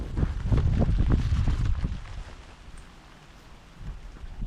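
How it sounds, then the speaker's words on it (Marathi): Rain falls steadily near a waterfall in North Goa, with low rumbling, loudest in the first two seconds and then easing to a softer patter. "वॉटरफॉलार वयतानाच पावस स्टार्ट जालो"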